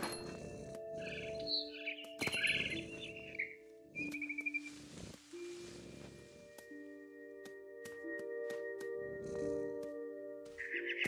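A frightened bird in the game What Remains of Edith Finch chirps and whistles in short tonal bursts. The sound is faint and intermittent over sparse game tones.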